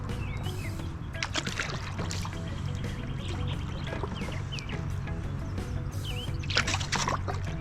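A kayak paddles along Brice's Creek, with water pouring and trickling off the paddle blade in steady strokes close by, and faint birdsong and a low droning hum underneath.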